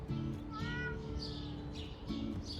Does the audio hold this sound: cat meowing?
yes